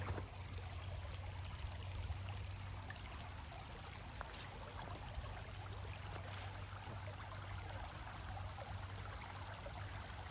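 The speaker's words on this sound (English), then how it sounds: "And the sound of the creek, it's so relaxing." Fast-moving creek water rushes in a steady, broad hiss, continuous and even throughout with no voices.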